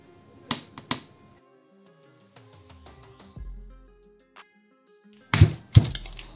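Black pepper crushed with a pestle in a kitchen mortar: two pairs of sharp, ringing knocks, one at the start and one at the end, with near silence between.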